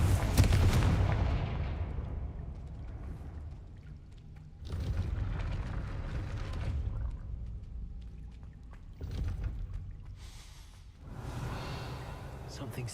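Several Confringo fire-blast spells from Hogwarts Legacy go off in turn, each a loud whooshing burst that decays over a second or two, spaced a few seconds apart over low game ambience.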